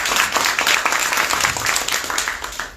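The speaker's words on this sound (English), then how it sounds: "let's give Dr. Alzadeh a round of applause" An audience applauds a guest, Dr. Alzadeh, at an evening community conversation event, with dense, steady clapping from many hands that fills the room at close range before easing slightly toward the end.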